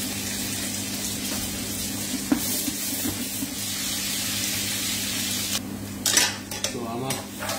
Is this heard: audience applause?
no